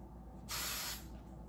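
Hairspray misted onto hair from an aerosol can while styling a slicked-back ponytail, one steady hiss of about half a second, close and clear over a low background hum.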